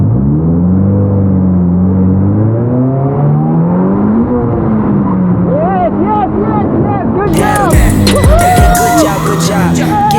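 A car reverses and swings into a J-turn, its engine whining and rising and falling in pitch up close, with a burst of rushing noise near the end and people talking over it.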